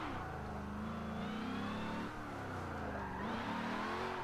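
A car's engine revs steadily through a handbrake-initiated drift, a continuous mid-pitched drone that rises and falls with throttle, close and loud throughout with no voices.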